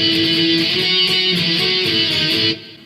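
A busy electric guitar fill between verse and chorus, with distorted, sustained tones and a rhythmic pulse, played loud and close, cutting off abruptly near the end.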